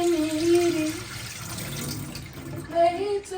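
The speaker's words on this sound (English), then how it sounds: "just drain the water like this." Cooking water for fufu pours out as it is drained, a steady running splash close by with a brief tonal ring in it.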